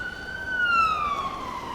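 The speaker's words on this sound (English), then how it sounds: "I'm gonna wait for the siren." A distant siren wails in a single slowly falling tone, moderately loud over a faint background hum.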